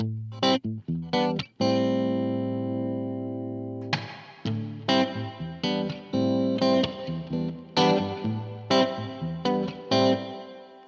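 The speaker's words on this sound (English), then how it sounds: "No, it is a digital reverb" Electric guitar notes and chords played through a Bad Cat boutique amplifier's digital reverb, each note trailing off into a smooth, lingering wash of sound; no talking.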